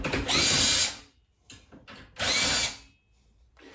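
Impact driver spinning Torx screws out of a Stihl MS 400C chainsaw, two loud close bursts of whirring hammering with brief quieter clicks between.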